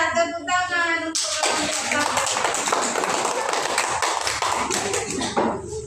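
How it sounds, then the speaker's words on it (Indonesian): Audience applause from a group of people, a dense, loud wash of clapping that starts abruptly after a voice speaks and continues steadily, fading near the end. "tepuk tangan untuk"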